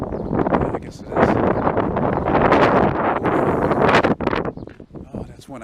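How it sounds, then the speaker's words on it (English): Gusty wind buffets a microphone in loud, rough bursts on a Montreal city street near Rue Berri and St Denis. Someone talks throughout under the rumbling wind. "The only time I like wind is summer when it's hot. Hot breeze, even though it's not good for the sound"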